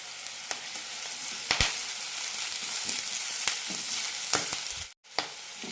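Curry leaves and sliced onion frying in hot oil for an okra tamarind curry, a continuous close sizzle broken by sharp crackles and spits, with a brief dropout near the end.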